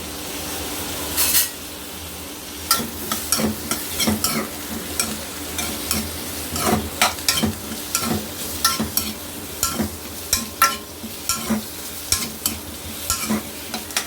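Tomato sautéing in a pan for egg korma, with a continuous sizzle under frequent rhythmic scrapes and taps of a spoon stirring against the pan, close and with no speech.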